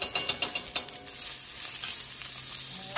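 Onions and garlic fry in hot olive and sesame oil for egg rolls, opening with a few sharp spatters and clicks before settling into a close, continuous sizzle.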